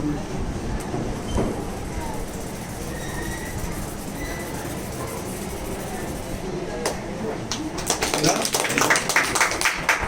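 A mimicry performer at a Malayali association celebration imitates a moving train with a steady rumbling, chugging drone that grows harsher and hissier toward the end.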